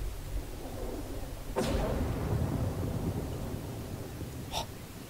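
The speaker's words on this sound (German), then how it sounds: "Gewitter." Thunder rolls through a thunderstorm in the video game Estranged: Act II, a sharp crack at about 1.6 seconds followed by a low rumble over steady rain-like noise, with a fainter second burst near the end.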